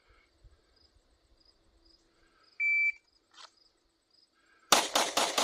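Glock 19 Gen 5 pistol fitted with a Radian Ramjet compensator fires a quick string of loud, sharp shots at close range, following a short electronic beep and a quiet lead-in.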